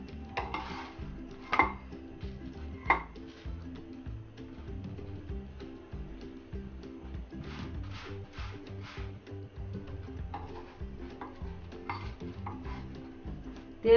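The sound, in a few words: keema paratha being flipped and fried in a pan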